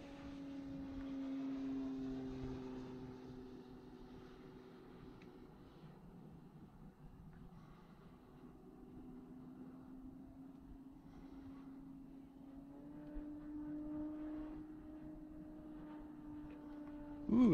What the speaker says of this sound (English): I'm only flying about half throttle here.